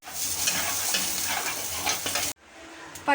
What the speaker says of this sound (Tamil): பச்சரிசியும் கடலைப்பருப்பையும் நல்லா வறுத்தோம்.